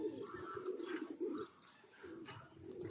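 Pigeons coo softly outdoors on a windy day, low throaty calls repeating in a steady rhythm close by, with a few faint chirps and no talk.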